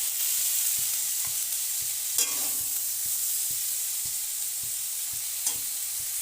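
Eggplant slices frying in hot oil give a steady, close sizzle throughout, with soft rhythmic taps of a utensil against the pan and one brief louder scrape.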